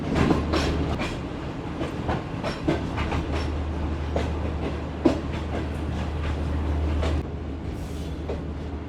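The Shalimar Express rolls along the rails between Karachi and Lahore, a steady close rumble with a rhythmic clickety-clack of wheels over rail joints, occasional sharper knocks and a brief squeal, no talking.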